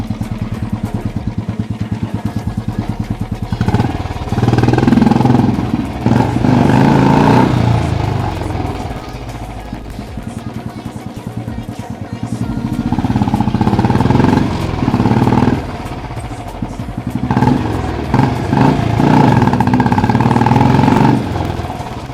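A loud Royal Enfield Classic 350 motorcycle engine fitted with a custom-made silencer, idling with a heavy, rhythmic thump, revved up several times in surges before settling back to idle.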